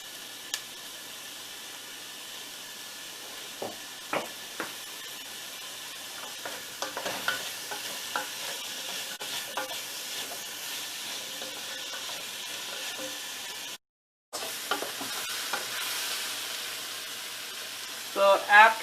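Chopped onions with salt frying in a pan for chicken curry, giving a continuous low sizzle with scattered scraping clicks of a spoon stirring, moderately quiet and close, a brief dropout near the end, and no speech.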